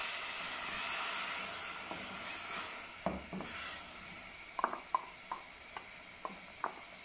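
Tomato paste sizzles with fried onions in a pan for Multani chickpeas, a hissing fry followed by a string of sharp clicks and scrapes as a spoon stirs the mixture.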